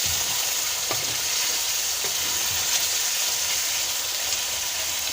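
Chicken liver karahi frying in a wok, a loud, continuous, close-up sizzle and crackle with occasional stirring scrapes, no voices over it.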